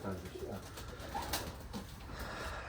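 Soft, low coos from tumbler pigeons in a coop come and go faintly in the background, with a murmur of other sounds and possible quiet talk.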